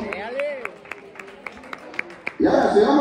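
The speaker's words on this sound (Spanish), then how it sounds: "¡Un aplauso!" Scattered claps that swell into loud applause from a dance contest audience, beginning as a few isolated hand claps beneath a voice and then breaking into a full burst of clapping.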